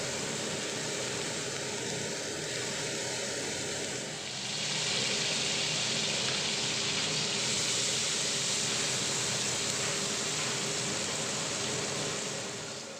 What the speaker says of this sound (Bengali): প্রথমে দিয়ে দিচ্ছি পেঁয়াজ পেস্ট এরপরে দিয়ে দিচ্ছি রসুন আদা ও কাঁচা লঙ্কার পেস্ট